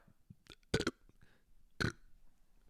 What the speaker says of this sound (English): I burped twice and I thought it was funny